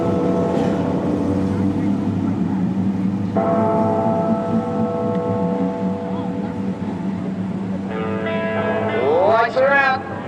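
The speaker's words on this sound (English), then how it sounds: "Time to toll the bells." Tolling bells play over a speedway public address, sustained ringing tones under a steady engine-like drone and crowd noise, with a rising tonal sweep near the end.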